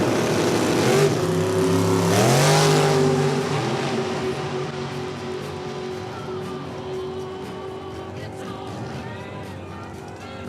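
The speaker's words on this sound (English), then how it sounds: "Got our last two pairs of Super Comp cars out on the racetrack before we move into Super Street." Super Comp drag race cars at Norwalk, a loud engine roar rising in pitch as a car accelerates hard, then fading into a distant fainter drone as it pulls away down the track.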